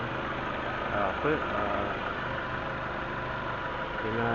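A Proton car engine idles with a steady low rumble after an idle valve stepper motor replacement, while a person talks briefly over it.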